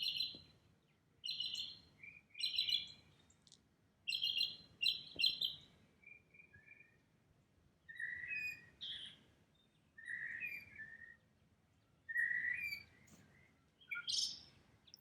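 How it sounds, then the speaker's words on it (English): Several birds sing in a spring dawn chorus in Birmingham, England, with bursts of bright chirps and trills alternating with softer warbles and short pauses, fairly close and clear over quiet background hiss, no voices. "I want you to hear the dawn chorus right now"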